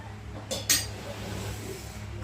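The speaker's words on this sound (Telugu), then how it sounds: "మూత పెట్టేసుకోండి" A lid set onto a pot of onion curry: two quick close metallic clinks against a quiet kitchen background.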